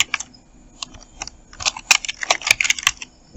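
Someone types an email ID on a computer keyboard while designing a visiting card, a close, fast run of clicking keystrokes with uneven rhythm that thickens toward the end.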